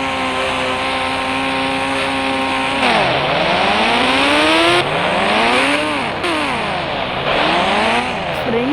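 A Bullet motorcycle in the Indian Bike Driving 3D video game drones loudly with a steady engine hum, its pitch sweeping up and down in repeated rev cycles like acceleration and easing off, with no talking.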